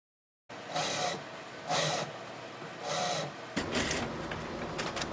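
A sewing machine stitches the top tier of a puffy tiered tent dress skirt to the bodice, running in several short bursts with brief pauses, then continuing steadily at the end, close and moderately loud.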